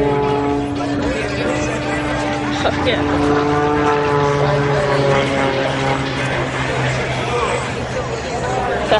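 A T-28 propeller plane flies over an airshow at Mather Airport, its engine drone steady and loud with strong harmonic tones throughout, while crowd chatter carries faintly underneath.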